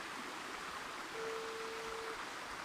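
A stream of cool green water flowing among trees, a steady broad rushing wash that stays even and close throughout, with a faint thin tone partway through and no talk.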